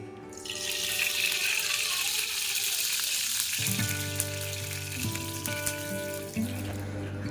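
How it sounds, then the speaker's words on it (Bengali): Bata fish rubbed with salt and turmeric frying in a pan, a loud steady sizzle and spatter that carries on for several seconds, with a low clatter of utensils near the end. "এগুলো এখন আমি ভাজতে দেবো"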